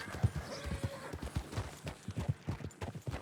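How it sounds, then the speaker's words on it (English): Horses in the Red Dead Redemption 2 video game clip-clop along with a steady, quiet rhythm of hoofbeats, with a faint whinny in the background. "Some horses."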